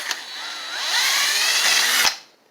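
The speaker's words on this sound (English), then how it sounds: "We're just going to drill. This is a 1/4 inch drill bit for those wondering." A power drill with a 1/4 inch bit bores into the stuck choke of a John Deere LA115 lawn mower, a loud whirring whine that rises and holds for about two seconds, then stops abruptly.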